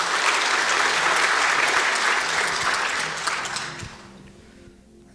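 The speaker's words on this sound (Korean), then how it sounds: "네, 우리 함께 박수로 격려할까요?" A church congregation claps together in steady, dense applause for several seconds before it fades out near the end.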